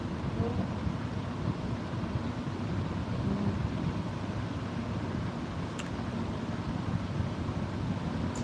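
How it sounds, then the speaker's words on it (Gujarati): Heavy monsoon downpour, a dense, steady low roar of rain with rumbling undertone throughout, continuous and loud with no clear separate thunderclaps. "અત્યારે વરસાદ આવ્યો"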